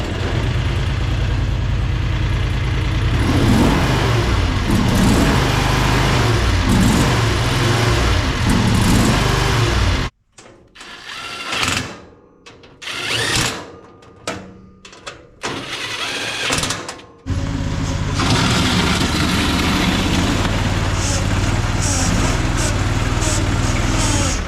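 A Fland FL45 wheel loader, a budget Chinese machine, revs loudly at near full throttle in a steady, sustained roar. The roar breaks off partway through into quieter, uneven bursts, then returns at full strength.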